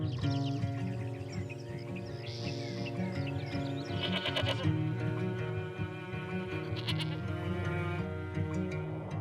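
Goats grazing a near-vertical limestone face on a Sardinian plateau bleat repeatedly, several overlapping wavering calls close by, with occasional bird sounds in the background.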